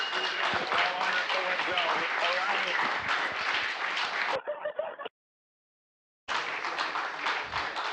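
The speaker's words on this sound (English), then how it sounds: "Lots of cheering here in the room." A room of people erupts in cheering and applause at the Boeing Crew Flight Test docking with the International Space Station, loud sustained clapping broken by a brief drop-out and full silence before resuming.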